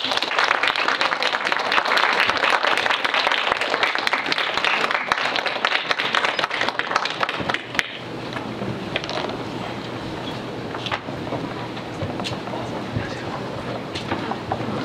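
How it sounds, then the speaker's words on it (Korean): Dense applause from an audience, loud and steady for several seconds, then thinning into scattered clapping and a murmur of voices. "박수 부탁드립니다."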